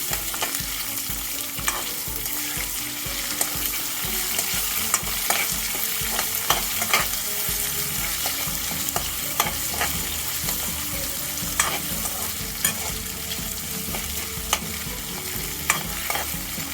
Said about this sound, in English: at this point, I'm going to add the red onions